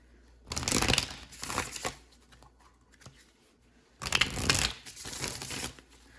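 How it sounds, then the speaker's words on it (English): Tarot cards being shuffled and drawn during a Capricorn reading, heard as two bursts of crisp riffling and crinkling card noise with a quieter shuffling stretch between them, close by and with no voices. "So we're going to pull two cards."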